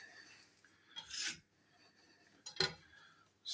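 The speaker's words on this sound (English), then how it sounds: "Just need to scrape that up." Two short rasping scrapes of a scraper across a floured work surface, lifting sticky bread dough made with plain flour and bacon bits, each stroke about a third of a second, close and fairly quiet.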